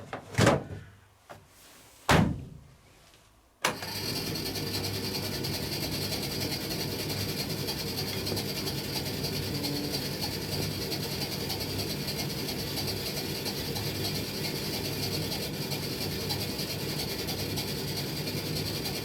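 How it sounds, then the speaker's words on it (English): A machine drum turning inside a unit with a clean filter: a few sharp clicks and knocks, then a steady, continuous mechanical rumble and whir that runs unchanged to the end. "Inside it's the drum's turning."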